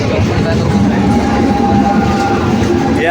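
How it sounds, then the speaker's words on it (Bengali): A train pulls into a station in Kolkata, a loud low rumble with steady wheel noise and a sustained tonal hum filling the short stretch, heard up close on the platform. "বলতে বলতে আমাদের ট্রেন চলে এসছে"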